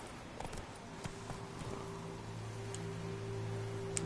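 Horse hooves clip-clopping in The Witcher 3: Wild Hunt, faint, irregular steps over a low ambient hum with a steady tonal drone.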